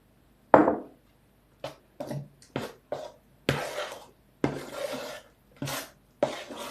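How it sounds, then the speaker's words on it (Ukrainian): Dough mixture for apple pies being stirred in a bowl with a utensil, heard as a series of separate scraping, clinking strokes at an uneven pace, close and fairly quiet, with no voice. "Також перемішую"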